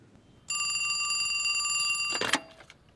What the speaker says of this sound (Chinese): 这时候来电话，清风店有事儿啊？